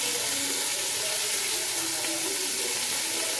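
Tap water runs in a steady broadband hiss while prawns are washed in a kitchen, constant and fairly close with no voices.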